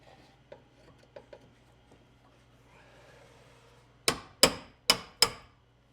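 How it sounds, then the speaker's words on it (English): Metal tools strike and pry at the tailgate of a square-body Chevrolet Suburban. Light taps and scrapes come first, then four sharp, loud hammer blows land in quick succession near the end. "I'm going to stand right here with a hammer and a pry bar and just pry the crap out of that"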